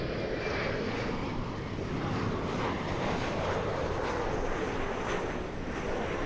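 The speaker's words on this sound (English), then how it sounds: "757 starting to move" A Boeing 757 airliner starts to taxi at Los Angeles airport, its jet engines a loud, steady roar that stays even throughout, with no voices.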